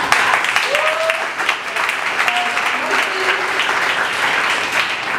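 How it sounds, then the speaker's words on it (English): An audience at a poetry event applauds steadily for the singers, a dense, even clapping that fills the whole stretch, with a few whoops and voices rising faintly through it. "I just want to give a round of applause to all the singers."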